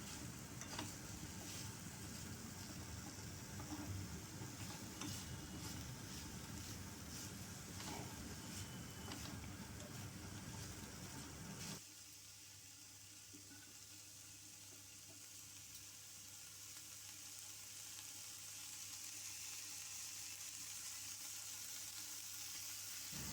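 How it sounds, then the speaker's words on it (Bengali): Drumstick vegetables fry in a pan with salt, cumin and turmeric, giving a faint, steady sizzle with soft stirring scrapes at first, then a quieter, even hiss. "এর মধ্যে সজনের ডাঁটা দিয়ে ভালো করে এটাকে নাড়িয়ে নিলাম"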